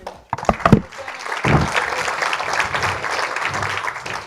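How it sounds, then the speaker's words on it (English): Conference audience applause after panelists are introduced, a few sharp early claps before a broad, steady wash of clapping that carries on evenly to the end. "Let's clap them."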